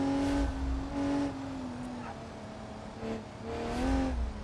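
Car engine in a racing video game, held with a steady tonal drone that pitch-bends upward in surges as the throttle rises, loud and close with no talk.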